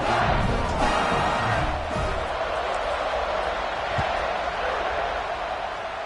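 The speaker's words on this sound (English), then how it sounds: "this crowd is buzzing after that last score" Dense crowd murmur fills a college football stadium between plays at a Wisconsin–Arkansas game, a steady, loud roar with rising swells, heard from a distance with no clear single voices.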